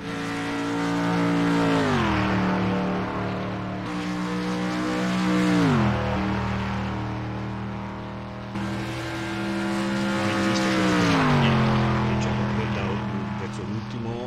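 Race car engines in a video game lap the Indianapolis circuit, the main car's engine climbing in pitch and dropping at each gear shift in three repeated sweeps, loud and steady.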